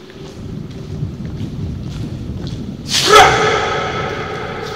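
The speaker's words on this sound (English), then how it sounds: "Thunder got some nice effect to it." Inside an abandoned Pennsylvania Turnpike tunnel, a sudden sharp crack of thunder breaks out after a few seconds of low rumbling background, then trails off into a rolling roar.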